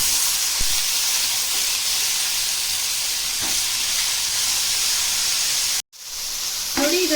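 Brinjal, ridge gourd and ivy gourd fry together in a hot pan, giving a steady close hiss and sizzle broken by a brief silent gap and a few faint clinks near the end.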